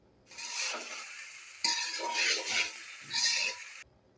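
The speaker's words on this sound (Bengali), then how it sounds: "এবার টমেটো সস দিলাম আবারও নেড়ে চেড়ে দিলাম" Pasta being stirred with tomato sauce in a pan, heard as three bursts of scraping, slurping utensil movement separated by short pauses, close and fairly quiet with no speech.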